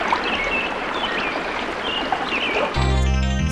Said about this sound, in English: Suddenly, a rush of the stream came close to her